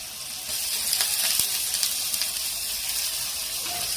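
Chicken pieces frying in a pan with turmeric and salt for a Telugu-style chicken curry, a bright, steady close sizzle with a few light stirring scrapes.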